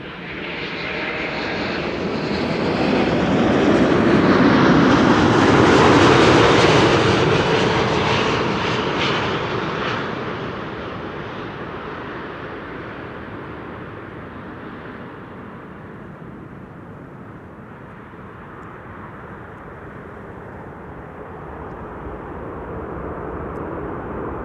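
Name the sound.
IndiGo airliner arriving from Mumbai at Amsterdam Schiphol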